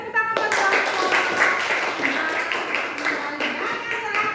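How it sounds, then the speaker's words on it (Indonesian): A small class group claps together after a presentation, a dense patter of hand claps lasting several seconds, close and fairly loud, tapering slightly toward the end. "Berikan tepuk tangan buat kelompok."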